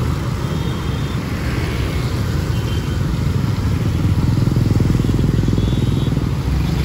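Steady street traffic in Nha Trang at a narrow roundabout, with motorbikes and cars passing in a continuous, fairly loud rumble and engine drone that swells slightly toward the end.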